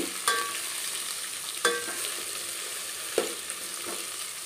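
Onions and masala frying for chicken biryani, with a steady sizzle from the pan and a few sharp scrapes of stirring spaced a second or so apart.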